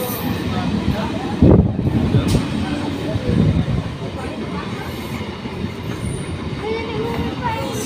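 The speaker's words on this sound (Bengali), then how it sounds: "গাইস, আমাদের ট্রেন চলে এসেছে।" A train pulls into Krishnapriya Ghat station on the way to Mayapur, with a rumbling wheel and carriage roar across the whole stretch and a few louder clanks early on, heard among platform noise and a little voice.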